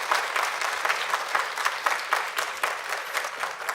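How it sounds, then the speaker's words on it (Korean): A congregation at Yeouido Baptist Church applauds dense and steady during a teachers' dedication service, with the clapping filling the whole stretch. "박수로 맞이하겠습니다."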